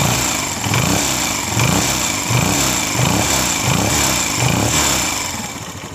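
A 2022 Honda CG125 motorcycle engine runs at a steady idle up close, with a loud, even pulsing thump repeating about every three quarters of a second.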